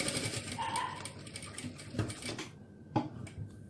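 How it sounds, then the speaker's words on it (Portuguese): A sewing machine restitching over an original seam line while making a small car trash bag, a rapid rattling run of needle strokes up close that stops after about two and a half seconds, followed by a couple of clicks. "Posiciono a minha agulha bem em cima da linha original e vou fazer essa costura novamente"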